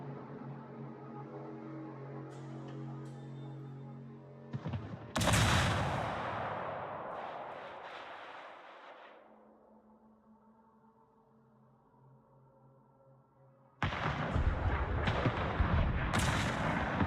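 Ship guns fire in World of Warships, heavy booming salvos with a rolling rumble that fades into a quieter stretch before another loud burst of gunfire near the end, with no voices.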